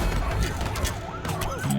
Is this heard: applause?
no